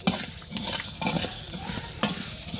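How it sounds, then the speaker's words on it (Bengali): Rice is stirred and fried in a pan, a close, busy mix of scraping strokes and soft sizzling with a few sharper scrapes, heard alone without voices. "চাল ভাজা"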